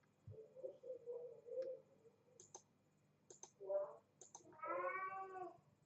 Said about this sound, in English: My cat is just annoying me.